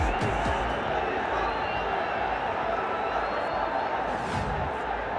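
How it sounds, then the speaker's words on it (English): A crowd at a BPL 2025 cricket stadium cheers after back-to-back sixes, a broad, steady roar with scattered claps and whoops heard from a distance. "That gets the crowd going."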